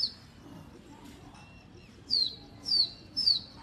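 Pigeons kept by a hobbyist flit overhead, giving three short sharp whistling flutters of wingbeats against a quiet outdoor background.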